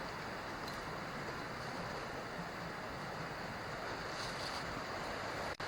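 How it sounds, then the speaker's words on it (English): A creek flows below a hiking trail on the Mid State Trail between Beulah Land Road and Little Pine State Park, a steady, dense rush of water that continues unbroken throughout with a touch of wind noise. "And we got the creek right down below."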